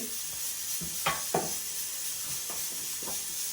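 Chicken cooking in olive oil in a pot, a steady soft sizzle with a few stirring scrapes and clinks standing out at moderate loudness, no talking.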